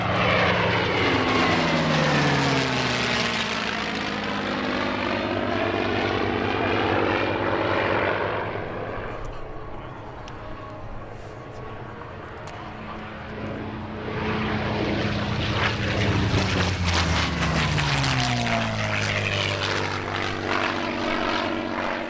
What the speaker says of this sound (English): As well as flypasts by a pair of Corsairs, we also saw one such aircraft performing with a P-51D Mustang